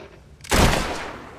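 A single loud burst of gunfire erupts about halfway through, a sharp close blast with a rough tail that lingers and slowly fades, heard during play of the video game Fable 3.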